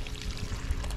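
Water pours steadily out of pool solar panels with the flow restricted, giving a continuous close splashing rush with a low rumbling undertone throughout.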